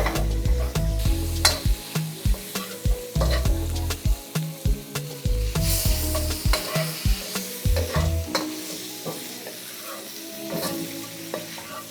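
Shrimp frying and being stirred in a pan for fried rice: a steady sizzle broken by rapid, rhythmic scraping strokes of a utensil against the pan, loud and close, fading toward the end.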